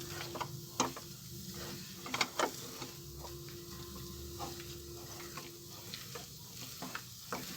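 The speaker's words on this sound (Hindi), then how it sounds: "अब इसे हम धीरे धीरे आराम आराम से भूनेंगे" Moong dal being slowly roasted in ghee for halwa, stirred steadily in a pan with a soft continuous sizzle and scattered scraping clicks of the spoon against the metal, close and fairly quiet, with no talking.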